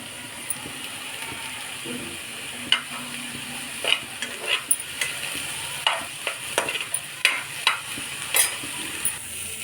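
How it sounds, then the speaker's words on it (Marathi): Radish pods dry-roasting in a pan, scraped and stirred with a utensil in irregular sharp clicks and rattles over a faint sizzle, close by with no voices. "सर्वप्रथम मुळ्याची शेंग अशी भाजून घ्यायची"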